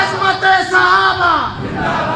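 A crowd at a Pakistani religious rally on the finality of prophethood and honour of the Companions shouts a loud, sustained collective response to a leader's slogan, voices swelling and falling in waves across about two seconds.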